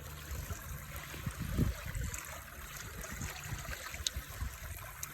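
A small stream carrying different-sized pebbles and sediment trickles and gurgles steadily, close and moderately loud, with a brief louder splash near the middle and no voices.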